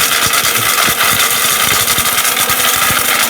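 A powerful blender motor spinning at 28,000 RPM grinds spices, a loud, dense, steady whine with rattling grit throughout and no pauses.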